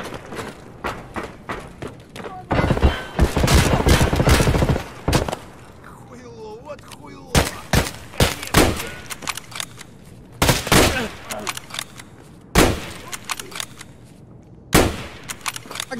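Gunfire in the video game Escape from Tarkov crackles in loud bursts and sharp single shots, spread across the clip between quieter stretches with shuffling movement and occasional talk.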